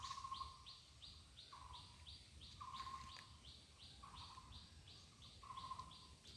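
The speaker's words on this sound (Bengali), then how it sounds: "পাখি ডাকছে চারিপাশে" Birds call around a household pond ringed by trees, a faint, repeating series of clear chirps spaced about a second apart, with softer calls between them over a quiet background.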